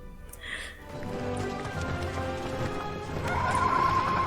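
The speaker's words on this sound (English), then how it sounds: "The ostrich horses are so creepy." Ostrich horses in an Avatar: The Last Airbender cartoon scene walk with a steady clip-clop of hooves and let out a loud whinny, under a layer of background score.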